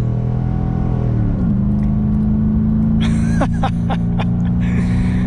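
A Holden VT with a 5-litre engine accelerates hard from a standstill toward 100 km/h, its engine rumble rising steadily in pitch through the gears, loud and close from inside the cabin, with brief bursts of other noise partway through.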